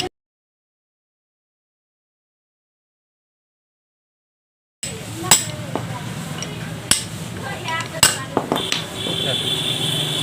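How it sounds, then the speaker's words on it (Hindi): Hammer and chisel knocking the bearing out of a 0.5 HP Tullu pump motor, a series of sharp metallic strikes after a long silent stretch, spaced irregularly over steady background noise. "बेरिंग निकालने के लिए आपको एक छेनी और एक हथौड़ी ले लेना है, ताकि हम इस तरह से ठोकेंगे तो बेरिंग निकल जाएगा"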